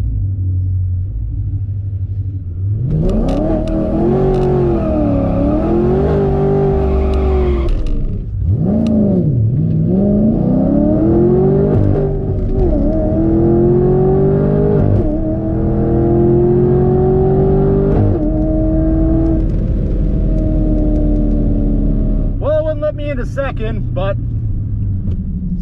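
A supercharged Camaro revs hard and roars as it accelerates down a drag strip, rising in pitch through repeated gear changes, loud and close, then a brief high whine near the end.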